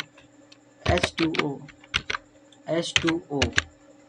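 H2O is typed into MS Word on a computer keyboard: several clusters of crisp, close keystrokes in short bursts with brief pauses between them.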